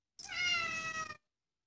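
A cat meows once in the Tales of Link video game, a single clear, drawn-out call of about one second, close and alone with no talking.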